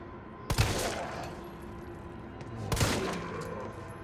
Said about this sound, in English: Time to start shooting.